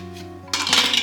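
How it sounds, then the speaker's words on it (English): A pressure cooker lid being set on and closed gives a sudden metallic clatter and scrape, close and fairly loud, over a steady low electrical hum. "Put the lid on it."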